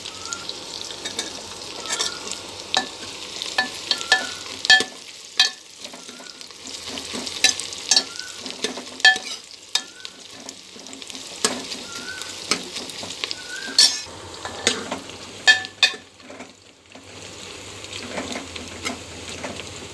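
Onions fry in a pan with spices and green chilies for a Bengali mutton curry. A steady close sizzle runs throughout, broken by scraping stirs and spatters.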